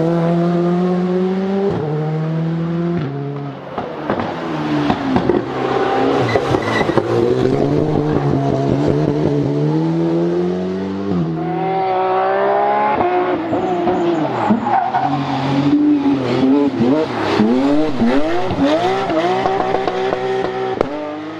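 Rally cars on special stage 6 along the Grand Connet road at Rallycircuit 2021, engines loud and close, revving hard through gear changes with tire squeal and skids as they pass.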